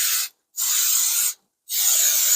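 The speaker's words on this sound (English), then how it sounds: "Pan spray. Spray your pan." Cooking spray hisses onto a baking pan in three steady bursts, each under a second long with short silent gaps between, close and fairly loud with no talking.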